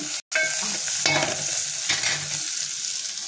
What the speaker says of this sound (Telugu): ఇట్లా బాగా కలుపుకుంటూ ఉంటే బాగా ఎర్రగా వేగుతుంది